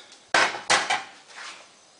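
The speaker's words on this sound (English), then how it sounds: "After the initial explosion, tea kettle pours as normal" A Rachael Ray tea kettle gives two sharp, loud bangs close together, followed by fainter clattering and splashing as it pours. Nobody speaks.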